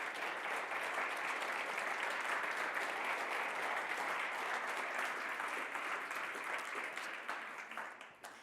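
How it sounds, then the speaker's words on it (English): An audience at a Stuttgart AI network demo day applauds to welcome Vanessa, a steady, even wash of clapping from a crowd in a hall that fades out toward the end. "Let's have a big applause and a big welcome to Vanessa."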